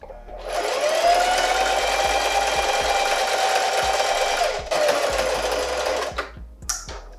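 A sewing machine runs a zigzag stitch along the fold of a fitted cowl-neck dress's skirt, a steady close whirring hum for several seconds, a brief pause, then a short back-stitch burst at the end.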